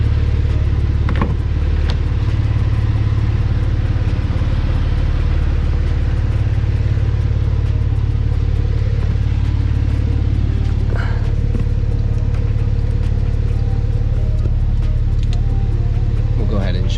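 A 2023 Porsche 911 Targa 4 GTS engine idling with a steady deep rumble, loud and close, running throughout before shutdown, while someone talks over it.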